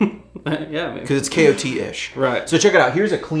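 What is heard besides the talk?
No everyday noise stands out behind the speech.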